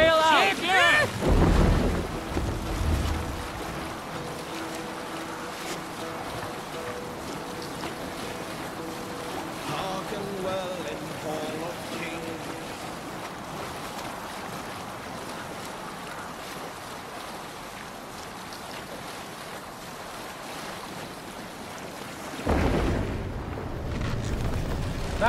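A Viking longship sailing on the open sea in Assassin's Creed Valhalla, with steady rushing water and wind, and louder splashes and gusts at the start and end.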